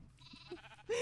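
A short, fairly faint sheep bleat from Minecraft, a single wavering call that ends in a louder burst.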